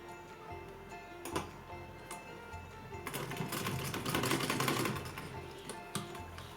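Sewing machine stitching a small dress for a Laddu Gopal idol, a steady mechanical ticking run that grows louder and busier midway, close and alone without talk.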